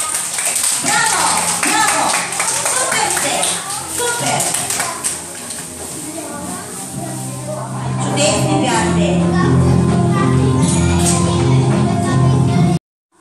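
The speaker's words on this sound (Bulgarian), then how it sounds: "Аплодирайте ги, моля! Публиката! Аплодисменти!" A live audience at a Bulgarian game-style stage show claps along, the clapping loud and busy under an excited host's voice, then continuing beneath upbeat music before cutting off abruptly.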